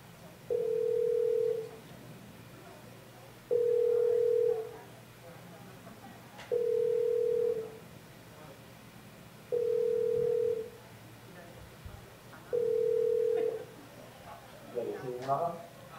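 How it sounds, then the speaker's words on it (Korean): A telephone ringback tone sounds as a call connects during a public community radio broadcast at a market: five evenly spaced tone pulses, each about a second long with two-second gaps, over a low steady background hum. "전화통화 연결을 한번 해보겠습니다."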